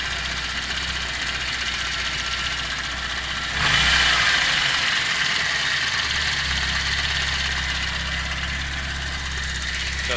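A VAZ 2109 car engine idling with worn cylinder head valve seats, a steady close ticking and knocking hum that swells briefly louder partway through, with no voices.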